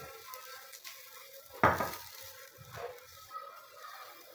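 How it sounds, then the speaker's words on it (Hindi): Maida flour being lightly roasted in a pan, with soft scraping stirs and a faint sizzle, one louder scrape standing out midway, close and alone. "1 टेबल स्पून मैदा डालेंगे, मैदे को हल्का सा भूनेंगे, कलर नहीं देना इसको"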